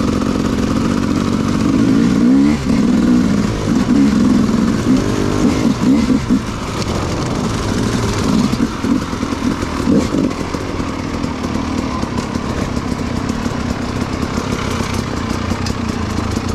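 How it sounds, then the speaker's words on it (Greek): An enduro motorbike engine runs steadily and fairly close, with low rumbling and some clatter, continuing throughout without speech. "να έχουμε ένα μηχανάκι για να μπορέσουμε να κάνουμε και μια γύρα εδώ μέσα"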